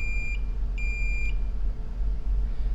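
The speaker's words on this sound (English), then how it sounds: "So I'm getting a beep here." A multimeter gives short continuity beeps while its probe touches points on a damaged circuit board, three clear high tones, one brief and two longer, over a steady low hum.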